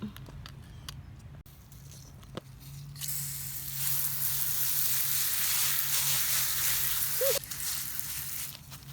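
Freshly dug garden vegetables being rinsed under running water: a steady, loud hiss of flowing water that starts abruptly and runs for about four seconds before cutting off, with quieter handling noises before it.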